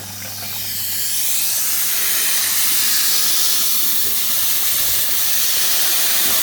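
Water rushing through the sieve line of a koi pond filter during winter cleaning, a loud, steady, close hiss of flow that swells slightly at the start and then holds.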